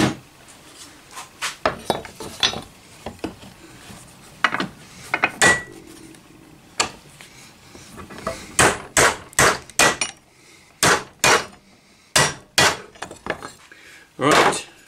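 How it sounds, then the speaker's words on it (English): A hammer taps repeatedly on something hard, with sparse taps at first and then faster runs of sharp, close strikes. "I'm just gonna tap that with a hammer."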